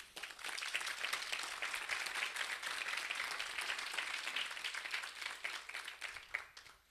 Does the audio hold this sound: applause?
yes